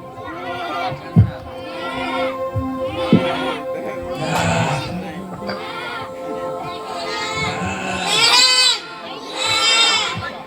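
Sheep bleat repeatedly at close range, wavering cries rising over and between people talking in a rural scene.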